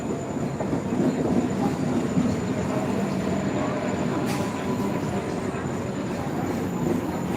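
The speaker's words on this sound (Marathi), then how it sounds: "हे बघा ए सी ट्रेन चालली आहे परत" An air-conditioned Mumbai train rumbles past close by, a steady loud roar of wheels on rails with faint clatter throughout.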